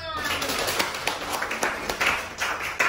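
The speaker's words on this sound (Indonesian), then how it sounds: "Tepuk tangan" Classroom audience clapping together after a quiz answer during a teaching session, a dense patter of hand claps lasting a few seconds, fairly close, with a voice talking over it.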